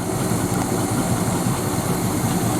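A Luhrs 28 boat engine runs in its engine compartment with a steady, loud drone, low rumble and slight vibration, continuously without pause; no voices.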